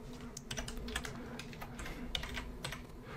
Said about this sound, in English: I'm going to type this somewhere else and then just copy it